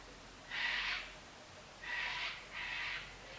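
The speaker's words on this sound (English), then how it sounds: "Now you've probably noticed in all of my videos there are cockatoos in the background." Three harsh, raspy cockatoo screeches from a flock in a backyard tree ring out at a distance, spaced over a few seconds against a quiet background.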